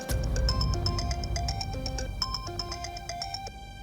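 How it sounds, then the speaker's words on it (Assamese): A phone ringtone plays for an incoming call in a household drama scene, a bright repeating electronic melody of stacked tones, loud and continuous with no talking over it. "ডক্টৰে ফোন কৰিছে মোক।"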